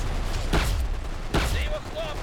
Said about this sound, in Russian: Меткий выстрел, Пирс!